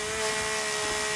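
A chainsaw idles with a steady droning buzz in The Forest survival game, holding a constant pitch and level through a brief moment with no voices.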